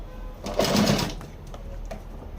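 A sewing machine stitches a decorative pattern onto the bottom hem of palazzo pants, giving one short, close whirring burst of stitching that fades into a quiet room.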